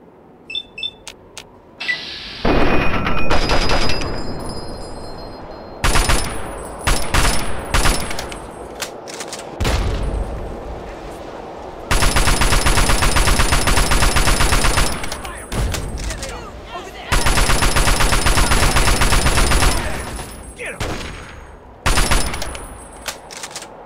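Gunfire in the video game Fallout 3 during the Operation Anchorage mission, with long rapid automatic bursts and scattered single shots, loud and close, separated by quieter pauses.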